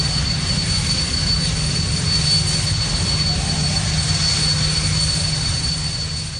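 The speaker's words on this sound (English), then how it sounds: "they did have a strip dryer, an old jet engine that works like a hairdryer on the old runway" An old jet engine used as a strip dryer on a runway roars steadily and loudly, a continuous broadband rush with a high whine, alone and unbroken.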